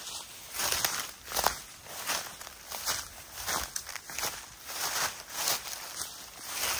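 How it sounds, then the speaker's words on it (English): Steady crunching footsteps through dry leaves on a farm in San Antonio, Quezon, Philippines, a regular rustling tread close by with no talking. "if you're wondering about the noise, that is because of dried leaves"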